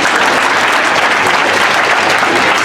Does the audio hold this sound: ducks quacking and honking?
no